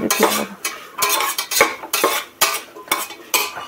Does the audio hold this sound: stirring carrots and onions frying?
yes